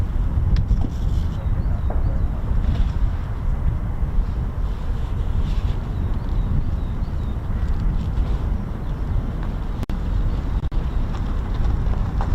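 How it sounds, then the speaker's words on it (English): Strong wind buffets the microphone at an RAF Lakenheath airfield, a continuous low roaring rumble with gusty swells, and a voice briefly speaks. "wind's picked up a little bit, but all is good"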